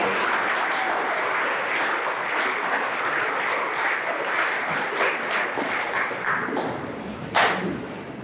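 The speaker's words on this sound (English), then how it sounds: "So one more round of applause for today's graduate." Audience applause at a 2023 GED graduation ceremony, a steady, dense round of clapping filling the room for several seconds, with a sharp thump near the end before it tapers slightly.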